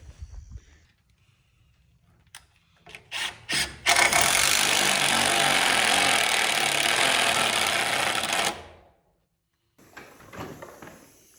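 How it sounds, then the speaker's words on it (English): A power driver with a hex adapter sets a Tapcon screw into concrete in a barn build, a few short bursts leading into one long, loud, steady grinding whir that stops abruptly, followed by faint handling noise. "we gotta get the Tapcons screwed into the concrete"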